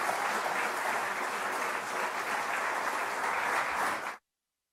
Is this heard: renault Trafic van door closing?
no